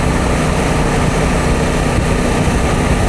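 A Honda Africa Twin motorcycle cruises at 70 mph in sixth gear, around 3,800 revs, its steady engine drone buried in a loud, constant roar of wind rushing past the rider.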